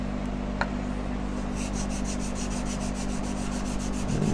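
A steel chisel rubbed back and forth across a sharpening stone, a steady gritty scrape with regular strokes, close and even, with no voices.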